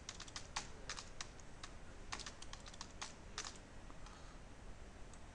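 A password being typed on a computer keyboard during a Proxmox VE setup: a quiet, steady patter of rapid key clicks in quick clusters, with no voices.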